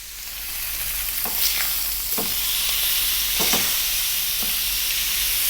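Steaks fry in a pan with a steady, close sizzle and hiss, broken by a few brief scraping and clattering sounds as the meat is turned.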